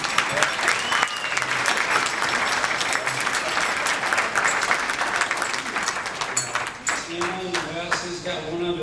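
Guests at a wedding reception break into sustained applause, a dense crackle of many hands clapping that thins out toward the end, with some voices mixed in.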